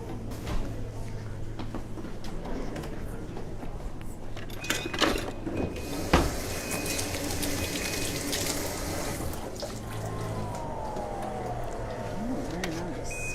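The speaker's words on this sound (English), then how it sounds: "I'm just going to rinse these real quickly" Running tap water splashing steadily into a kitchen sink as items are rinsed, a continuous close wash with small clinks and handling noises, no talk over it.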